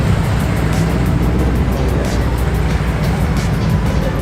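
A Subaru car drives past at an outdoor car meet, a steady engine and road roar that stays loud throughout with constant background noise and no clear voices.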